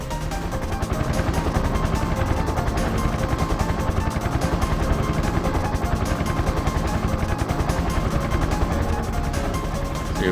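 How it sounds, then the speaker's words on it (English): A helicopter in Parasite Eve thumps with a steady, rapid rotor chop that stays loud and constant throughout. "let's get in the helicopter"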